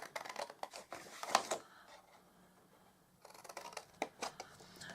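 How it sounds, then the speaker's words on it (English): Scissors snip along score lines in card, a close run of crisp, quick cuts, a short pause, then another cluster of snips. "So just cut up these score lines."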